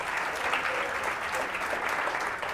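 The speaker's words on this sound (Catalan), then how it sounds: "Un aplaudiment per ells, si us plau." An audience applauds a school quiz team on a televised quiz show, a dense, steady burst of clapping at close range lasting the whole moment.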